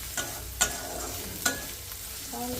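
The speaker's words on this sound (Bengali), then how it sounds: "এখানে ভাজাটা হয়ে গেছে মোটামুটি একটু লাল লাল করে ভাজতে হবে" Food fries in a pan until reddish with a steady sizzle, and a utensil stirs and scrapes it in a few sharp strokes close by.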